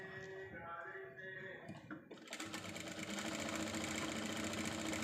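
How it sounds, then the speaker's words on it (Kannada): Sewing machine stitching a fabric pencil pouch, a steady whirring run of stitches that starts softly and becomes loud and continuous from about two seconds onward. "ಬೇಕಾದರೆ ಮಧ್ಯೆ ಮಧ್ಯಕ್ಕೆ ಒಂದು ಹೊಲಿಗೆನ ಹಾಕ್ಬೋದು"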